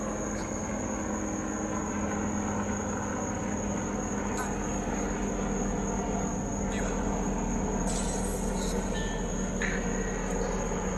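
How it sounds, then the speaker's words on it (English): A loud, steady mechanical roar of a helicopter flying overhead above woods fills the air continuously, with a high whine and scattered faint clicks. "Kristy, do you like the helicopter"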